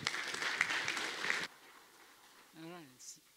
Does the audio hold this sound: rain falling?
no